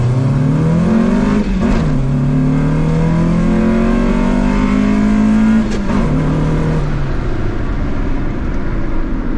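Honda EK hatchback with a swapped B18 engine revs hard and loud, climbing steadily in pitch with two brief dips at gear changes. A third gear grind is the reported fault.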